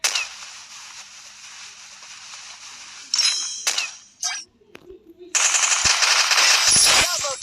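Rapid automatic gunfire rattles in a multiplayer shooter game, with a long burst at the start, short clipped bursts in the middle and another sustained volley at the end, punctuated by metallic clinks and near silence between.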